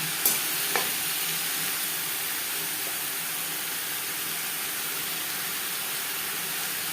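Pointed gourd pieces fry in a pan with salt and turmeric, giving a steady close sizzle and hiss, with a couple of brief utensil knocks near the start.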